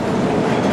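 Train at Zurich airport station, a loud continuous rolling rumble of railcars with rhythmic wheel clatter on the rails, heard close and alone without speech.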